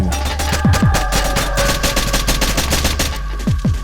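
Rapid automatic gunfire from a Counter-Strike clone video game, a steady loud rattle of shots filling the whole stretch, with a few brief sliding tones and no talking over it.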